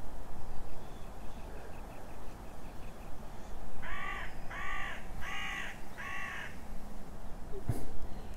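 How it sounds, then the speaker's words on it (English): Crows cawing at sunrise, a run of four harsh caws in even rhythm, moderately close, over a quiet outdoor background with a soft earlier call and a sharp click near the end. "Those crows were just asking you if you were having a good view of this"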